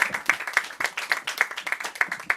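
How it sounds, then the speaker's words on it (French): Applause from an audience at a poetry evening, dense clapping with irregular sharp peaks throughout, fairly close and steady. "On l'applaudit encore une fois, mesdames et messieurs."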